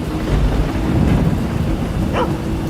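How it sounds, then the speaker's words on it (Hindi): A thunderstorm sound effect with steady heavy rain hissing over low rumbling thunder, continuous and fairly loud for a few seconds. "उफ, क्या खतरनाक तूफान था यार।"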